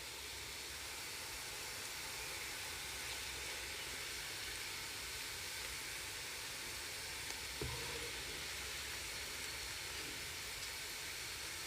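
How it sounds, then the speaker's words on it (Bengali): Sliced onions fry in oil in a pan until crisp and browned for beresta, giving a soft, steady hiss and sizzle heard close up with no talking, plus one small clink partway through. "এইখানে আমার পেঁয়াজ বেরেস্তা হচ্ছে"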